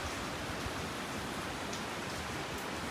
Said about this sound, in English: Wind is definitely kicking up.